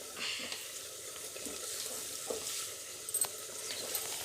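Paneer gravy bubbling in a pot while being stirred, a steady close hiss of boiling with occasional spoon scrapes and knocks.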